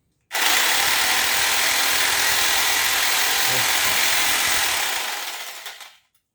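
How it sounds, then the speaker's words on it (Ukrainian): A NOWA WY 750bl electric jigsaw runs unloaded with its trigger locked on, giving a loud, steady high-pitched whine for about five seconds before winding down and stopping. "Якщо її зажати, то пилка буде сама працювати без натискання на пуск."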